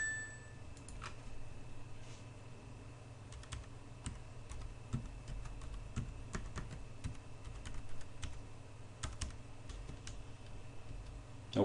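A password is typed on a computer keyboard, with irregular close key clicks and taps continuing steadily for about twelve seconds over a low background hum, with no speech.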